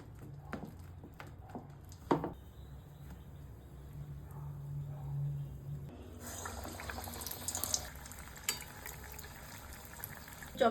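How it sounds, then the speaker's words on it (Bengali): Egg chops, potato-stuffed and coated, frying in white oil, giving a steady bubbling sizzle that thickens into a busier crackle partway through, with a few louder clatters at the start. "ডিমের চপগুলো আমি এইভাবেই সব ভেজে নেব"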